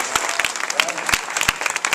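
Applause from an audience at a TLC Super Saturday gathering in Raleigh, North Carolina, a dense, steady patter of many hands with a few sharper claps standing out, carrying on for about two seconds.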